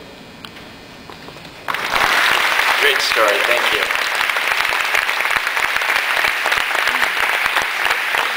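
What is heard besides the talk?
applause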